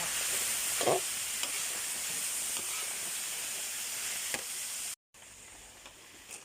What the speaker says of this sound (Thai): หลังจากที่ผัดพริกแกงจนได้ที่นะคะเราก็ใส่ แตงกวาลงไปเลย แล้วก็ผัดต่อ